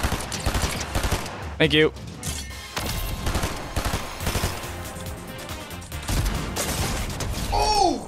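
Rapid automatic gunfire in a shooter game, near and loud, shots rattling almost nonstop in clustered bursts while a player talks over the firefight.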